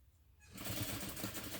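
A sewing machine stitching over thick bag handles starts up after a quiet moment and runs in a fast, steady mechanical whir with a rhythmic needle chatter, close and loud.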